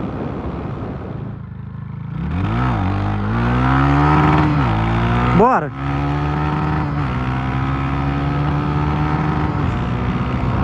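A carbureted motorcycle fitted with a 190 kit and its original carburetor and exhaust revs up and accelerates hard, the engine note rising through gear changes and staying loud and close, with a brief spoken word early on.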